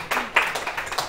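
A classroom of students clapping during a lesson, a short burst of scattered hand claps, fairly close and modest in volume, lasting about a second.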